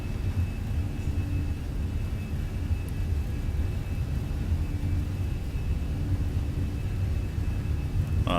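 Airbus A320 engines at takeoff thrust in Microsoft Flight Simulator on a runway departure from London Heathrow, a steady, loud low rumble and roar with a faint high whine, continuous and unbroken throughout.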